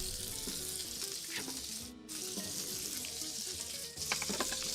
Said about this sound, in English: I'm probably going to be just throwing half the onions in here